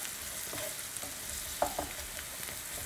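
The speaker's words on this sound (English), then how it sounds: "So you want to cook the spices for about a minute in the oil and the onion mixture." Spices frying in oil with an onion mixture for a mushroom curry, a soft steady sizzle with faint stirring scrapes and a couple of brief clinks, close by and with no talking.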